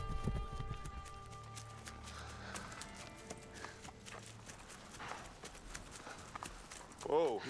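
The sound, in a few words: horses' hooves clip-clopping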